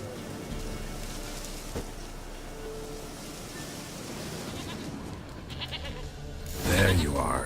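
A goat bleating in The Witcher 3 game, its calls mixed into a steady wash of ambient noise and muffled talk, with a louder burst of sound near the end.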